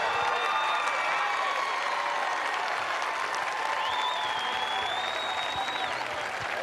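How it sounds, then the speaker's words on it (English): A crowd at a CrossFit semifinal competition applauds and cheers in a dense, sustained wash of clapping with scattered whistles, heard throughout at moderate volume. "big round of applause for your top 5 athletes going to the CrossFit Games. Brent Fikowski, Phil Toon, Travis Mayer"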